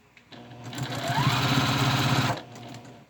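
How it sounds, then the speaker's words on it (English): Sewing machine stitching a crochet kit bag, one steady rapid run of needle chatter lasting about two seconds, close and clear, starting and stopping abruptly. "I'm just sewing this, sewing it, sewing it, and sewing it. And I'm going to back stitch."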